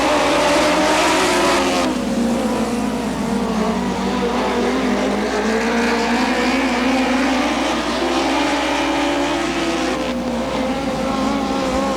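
IMCA sprint cars racing on a dirt track in Ventura, California, a loud, continuous engine roar with pitch swells and dips as cars pass and accelerate, several machines blending into one sustained howl.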